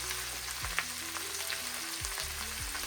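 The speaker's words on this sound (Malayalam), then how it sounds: "എന്നിട്ട് ഇനി നല്ലപോലെ വഴറ്റിയെടുക്കുക എല്ലാം കൂടെ." Chopped garlic and vegetables with salt sautéing in a pan for a beef offal (botty) curry, a close, steady sizzle and crackle with occasional soft scrapes of stirring, no voices.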